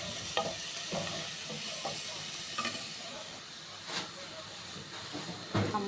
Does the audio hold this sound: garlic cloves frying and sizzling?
yes